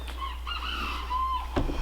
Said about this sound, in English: have Mr. Tut, and he has been our rooster since back in California